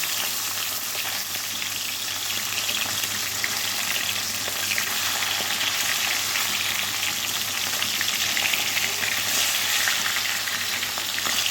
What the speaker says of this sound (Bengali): এই যে এখন কাতলা মাছগুলো ভাজা হয়ে গেলে